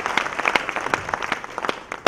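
Audience applause at an international research conference in Delhi, a short burst of dense, moderately loud clapping that continues steadily with a sharper clap at the end.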